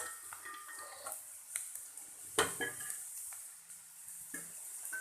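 Baby corn is stirred in a pan for a chilli dry dish. Quiet scraping and clinks of a utensil against metal come in uneven strokes, with one sharper knock partway through, over a faint sizzle.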